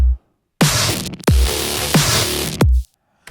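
A snare drum sample from a Serum remake of a track plays several times in a row, each crack trailing into a bright, washy noise tail, with brief silence before and after.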